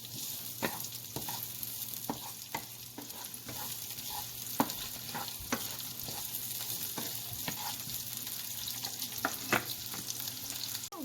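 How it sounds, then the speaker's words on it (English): Onions, ginger and garlic sauté in a heated pan, a steady soft sizzle running throughout with occasional light clicks and scrapes of stirring, moderately close and fairly quiet, no voices. "put in the onions, ginger, and garlic. And let that saute"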